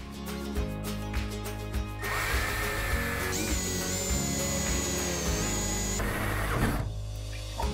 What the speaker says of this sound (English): We're going to start with a pilot hole that's just a wee bit bigger than whatever saw we're using.